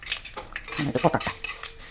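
Mustard seeds and chana dal crackling in hot oil in a pan for a Kerala-style tempering, a busy spatter of short pops and clinks, close and fairly loud, with no voices.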